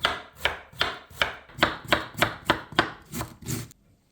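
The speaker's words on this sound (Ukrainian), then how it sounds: "шинкуємо капусточку" Rapid, even knife chops shredding red cabbage, about a dozen crisp strokes in a steady rhythm, close and clear with no talking.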